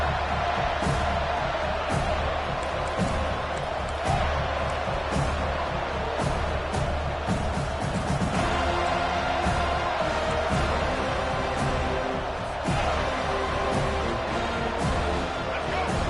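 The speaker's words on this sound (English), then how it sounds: "Here comes this home crowd as the defense tries to get off the field on third down." A home crowd at an American football game roaring as the defense faces third down, a loud, continuous swell of cheering and noise that stays dense throughout.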